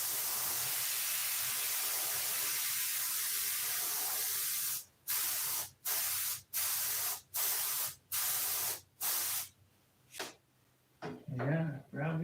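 A spray can hisses steadily for several seconds while paint coats a cover, then fires a run of short, even bursts with brief gaps, and a voice speaks near the end.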